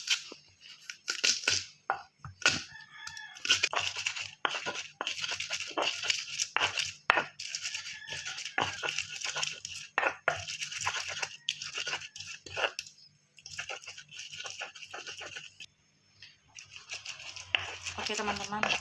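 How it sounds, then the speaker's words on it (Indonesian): Shallots and garlic are ground into a paste for an egg soup, making repeated rough crunching, scraping bursts with short pauses, close by, while a voice talks intermittently. "bawang merah dan bawang putihnya kita haluskan terlebih dahulu"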